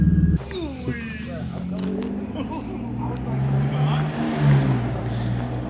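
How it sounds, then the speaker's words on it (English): A drift car's engine hums and revs steadily throughout, rising and falling in pitch as it drives, with a brief rattle near the start. "I'm in my drift car, leaving work right now."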